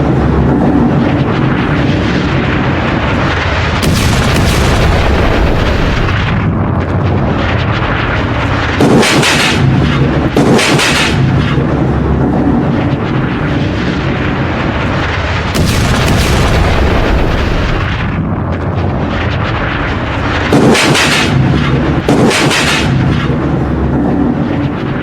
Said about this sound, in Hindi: ये लेबनान का गांव है और गांव में एक साथ धमाके हुए।